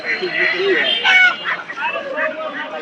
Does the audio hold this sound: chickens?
yes